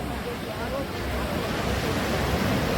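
Sea waves wash onto the beach at Puri, a loud continuous roar of surf with wind noise and no distinct breaks.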